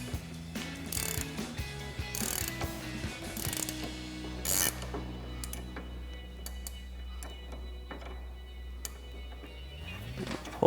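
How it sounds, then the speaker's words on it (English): A 21mm ratchet wrench clicks as it loosens the nut on a front control arm of a 2011-2019 RWD Dodge Charger, with quick bursts of ratcheting, a steady low hum underneath and a few metallic knocks. "now we've got our 21mm ratchet wrench. We'll get that onto our nut."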